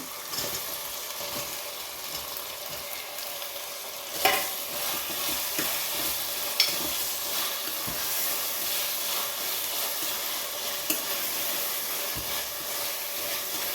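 Mint and tomato fry in a pan for spicy hotel-style chicken biryani, giving a steady, dense sizzling hiss with a few sharp clicks and taps of a spoon against the pan.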